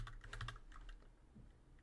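Quick bursts of keystrokes on a computer keyboard, a rapid cluster of clicks followed by a few scattered taps, close and fairly quiet over a low hum.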